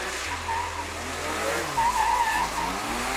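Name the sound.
Porsche Carrera drifting with tire squeal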